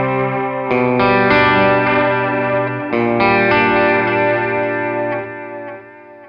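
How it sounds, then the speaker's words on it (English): Electric guitar through the delay of a Tech 21 Richie Kotzen RK5 Signature Fly Rig into an amp, its drift control turned up so that several ringing chords waver with a pitch-bending warble and trail off in echoes. "If you want the full-on warble, you can turn the drift control up."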